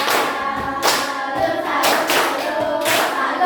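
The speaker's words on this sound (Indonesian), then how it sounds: "Tepuk salut." A classroom of children claps a rhythmic salute in several quick bursts of hand claps, close and fairly loud, with brief pauses between the groups.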